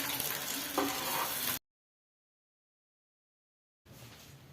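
Chicken shami kababs fry in a pan, a loud close sizzle that cuts off for about two seconds of silence and then resumes more quietly.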